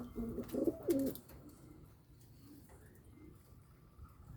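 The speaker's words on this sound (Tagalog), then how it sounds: "patapos na maligo sila mga kalapatids" Domestic fancier pigeons coo softly after bathing, a short burst of throaty cooing in the first second or so, then quiet low background murmur with a few faint coos.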